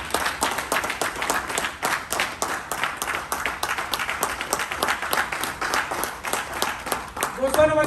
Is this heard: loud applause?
yes